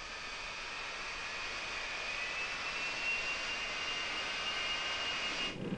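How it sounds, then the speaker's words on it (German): A Boeing 727 jet taxis toward the runway in 1972, its engines holding a loud, steady whine and roar with a sustained high tone, close and continuous before cutting off abruptly at the end. "Die Boeing 727 ist vom Fluggaststeig geschoben und zum Rollen bis zur Startbahn freigegeben worden."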